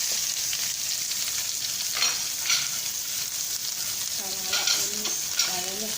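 Finely chopped onion sizzles in a hot pan for a winged bean thoran, a steady close frying hiss with a few stirring scrapes and clinks toward the end.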